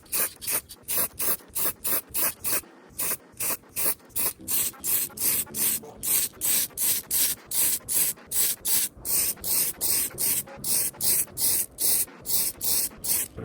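Rapid, regular bursts of aerosol spray paint laying a black coat on a Scout II, short hissing pulses repeating close up with tiny pauses between, no voices.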